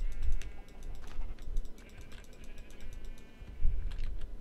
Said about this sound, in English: Lots of sheep.